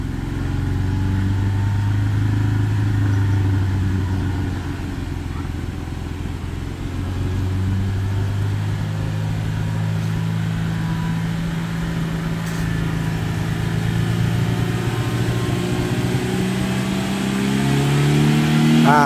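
Daihatsu Xenia car engine, its intake clogged with dirt, revving steadily and loudly close by with a continuous droning tone that rises and falls slightly in pitch, no voices.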